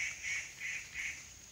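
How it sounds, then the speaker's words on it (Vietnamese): Wild junglefowl hens, freshly caught alive in a trap after days of rain, make repeated nasal calls close by, about four short bursts in steady rhythm over a low background hum. "Đây, hai em gà mái luôn nha, còn sống nguyên si."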